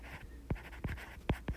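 Chalk or marker strokes on a board during a dynamics lecture, four short scraping strokes spaced across a quiet room, fairly faint and with no talking.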